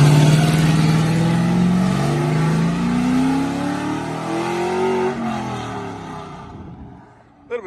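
LS-swapped Ford F-150 truck engine revving hard and accelerating, pitch climbing steadily over several seconds before the throttle lifts and the engine note drops away; loud and close.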